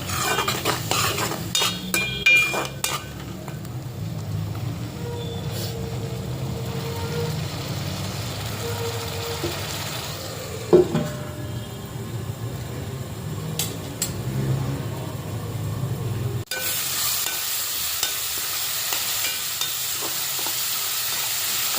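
Onion and tomato with turmeric and red chili fry and sizzle in a pan for chicken dum biryani, a spoon scraping and stirring now and then, with a brief sharp knock and a quieter, duller sizzle near the end.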